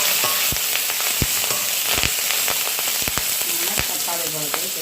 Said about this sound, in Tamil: சரி, வெங்காயம் பொரிஞ்சு கொண்டு வந்துட்டுது